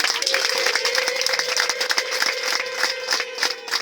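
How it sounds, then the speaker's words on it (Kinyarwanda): Wedding guests break into applause and joyful ululation, a dense wash of clapping running steadily throughout with a sustained high ululating tone layered over it and no clear talk. "Nakabaye numva impundu n'amashyi menshi y'urufaya."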